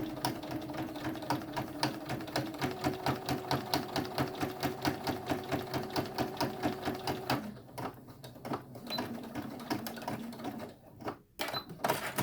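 A sewing machine stitches elastic into a fabric face mask, running in a steady rapid rhythm of close, loud stitches before breaking into shorter, irregular bursts as the work shifts back and forth.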